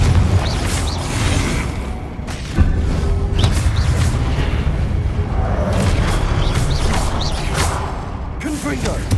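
Repeated Confringo fire-spell blasts in the Hogwarts Legacy video game, heavy booming impacts and mechanical crunches over dense combat noise, loud and continuous, with voices talking at points.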